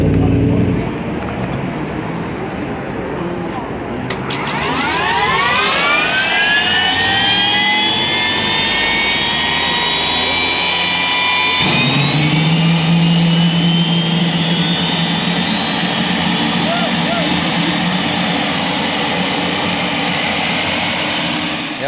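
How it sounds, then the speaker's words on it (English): A Triumph motorcycle, stretched six inches and fitted with a 400-horsepower helicopter turbine engine, spools up with a rising turbine whine that climbs steadily in pitch and holds as a loud, continuous jet-like roar. "Chris Winnie took a big time Triumph, chopped it down the middle, extended it 6 inches and put this 400 horsepower helicopter turbine engine in it."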